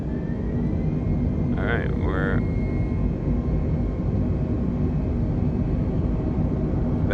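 Airbus airliner jet engines from a flight simulator, a loud continuous broadband roar through the whole stretch with a brief rising tonal chirp near the start and a short spoken word early on.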